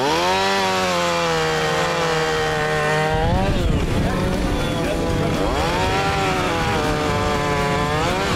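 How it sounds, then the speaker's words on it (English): Two chainsaws roar continuously at close range, engines revving and bogging as they bite into wood, loud and unbroken throughout. "They both got their chainsaws going right now."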